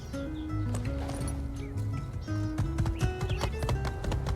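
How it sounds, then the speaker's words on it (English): Horse hooves clip-clop in the video game My Time at Sandrock, a steady trot over a continuous layer of game music, with a brief whinny suggested amid the rhythm. "Okay, horse."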